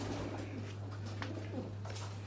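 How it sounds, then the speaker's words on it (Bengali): Pigeons cooing in a loft, soft repeated coos at close to moderate distance over a steady low hum. "বাইরে কবুতর খুব ডিস্টার্ব করতেছে"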